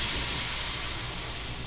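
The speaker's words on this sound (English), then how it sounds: "first things first, we rinse it out" Water rinses out a messy stainless steel pan that is not non-stick, a steady broad hiss of running spray that holds close and even throughout.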